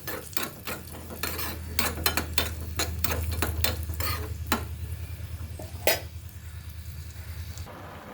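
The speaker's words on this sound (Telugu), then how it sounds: "పక్క స్టవ్ మీద జీడిపప్పు, గుమ్మడి గింజలు వేస్తున్నానండి." Cashews and pumpkin seeds fry in a pan for carrot halwa, a steady low sizzle running under repeated sharp clicks and scrapes of a spoon against the metal, fairly close, then quieting near the end.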